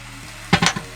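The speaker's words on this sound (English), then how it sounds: "So once you have your liquid in the pan, you'll hear it sizzling." Brief bursts of greens sizzling with vinegar and being stirred in a hot pan, a few quick clattery swishes over a low background hum, close and fairly loud.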